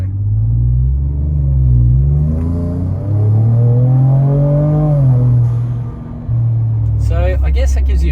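Twin-turbo V6 Ford Raptor with an upgraded intercooler and exhaust at full throttle in Baja mode, a loud close deep engine roar rising and holding through the gears, with a brief dip between shifts.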